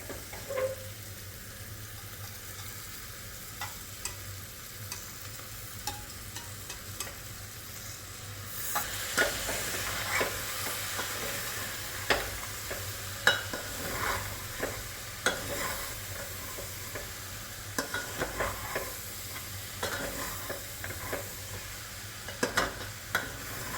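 Rice and dal are sautéed in a pan for a soya chunk khichdi; a faint hiss gives way to continual spoon scraping and frequent clicks against the pan.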